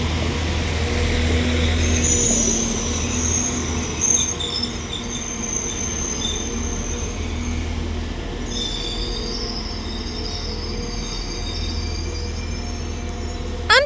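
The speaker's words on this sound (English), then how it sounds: "And as this Northern Class 195 arrives in" A Northern Class 195 diesel train from Manchester Airport rolls into Deansgate station, a steady rumble with high wheel squeals drifting over it, and faint insect chirps in the background.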